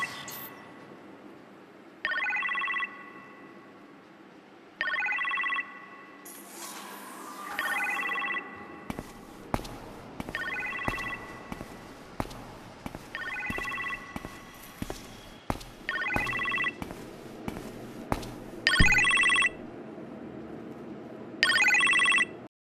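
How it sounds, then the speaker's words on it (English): A telephone rings in a kitchen in the Iron Man VR video game, repeated ring bursts over game ambience and scattered footstep-like clicks, with no speech. "You appear to have a phone call in the kitchen"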